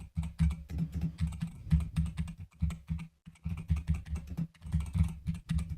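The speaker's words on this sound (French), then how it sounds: "le Fifine captait quand même beaucoup les bruits environnants, surtout les bruits du clavier" A computer keyboard clatters with rapid, irregular keystrokes, captured close by a Fifine microphone. The typing is fairly quiet and continuous with a brief pause midway.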